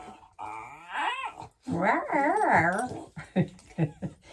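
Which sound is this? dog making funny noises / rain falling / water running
dog making funny noises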